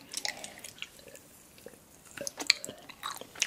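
Candy being chewed at close range, soft wet smacking and squishing bites in uneven bursts, quiet with no talk over it.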